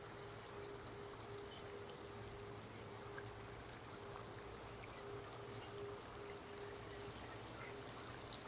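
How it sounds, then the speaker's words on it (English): A small garden fountain spills into a little waterfall, giving a steady, soft trickle of running water on an evening walk, constant and fairly quiet throughout with no talk. "That's the fountain. On that little fountain, that's the one that creates the little waterfall"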